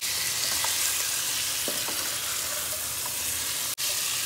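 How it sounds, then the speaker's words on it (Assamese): Chicken meat fries in oil with spices, a constant close-up sizzle with occasional stirring scrapes and a brief sharp break near the end, with no talking. "মাংসখিনি খুব ভালকৈ তেল আৰু মছলাখিনিৰ লগত মিহলাই কিছু দেৰি ভাজিব লাগিব।"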